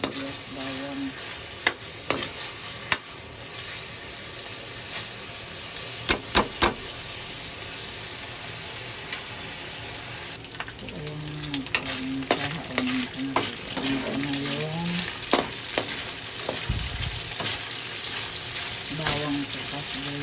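Onions and garlic frying in a pan for a carbonara, a steady broadband sizzle with occasional stirring clinks and scrapes, while a person talks intermittently over the cooking.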